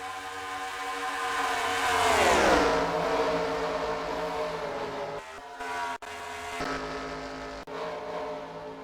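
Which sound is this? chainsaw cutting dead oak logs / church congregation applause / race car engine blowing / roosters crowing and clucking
race car engine blowing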